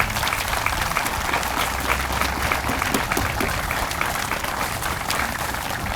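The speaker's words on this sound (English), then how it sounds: "I would like to just, for a moment, clap applause to all the people who made this happen" Steady applause from an outdoor audience at a historic site statue dedication honoring veterans, a dense continuous wash of clapping that holds evenly throughout without talk.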